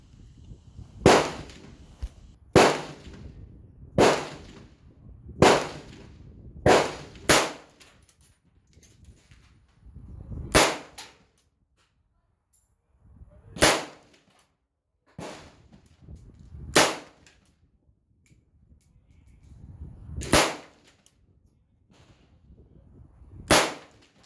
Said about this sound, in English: That is 180 rounds at 100 yards from open sights on an AK